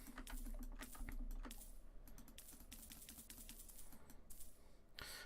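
Rapid, light mouse clicks repeat in a quick, uneven run while selling sapphires one at a time in Sunless Sea, crisp and close against a quiet background.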